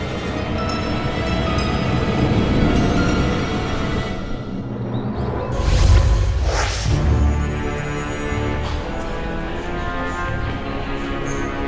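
A steady, loud rumble of a train in motion in Japan, with continuous rolling noise and a brief swell midway, no talking.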